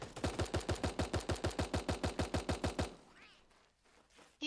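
Rapid automatic gunfire from the cartoon battle royale game Super Animal Royale, about seventeen evenly spaced loud shots in a steady burst lasting nearly three seconds, then quieter game ambience with a faint rising whine and a sharp sound at the end.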